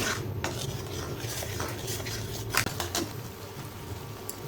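A spice paste for paneer butter masala, made with spices fried earlier, is stir-fried briefly in a pan: quiet metal spoon scrapes and taps over a soft, steady sizzle.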